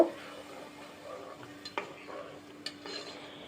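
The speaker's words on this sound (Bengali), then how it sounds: "এখন ভালো করে নেড়ে চেড়ে মশলাটাকে কষিয়ে নিব" A spice paste for chicken curry is stirred and sautéed in a pan, with a soft low sizzle under a few clear scrapes and taps of a spoon against the metal.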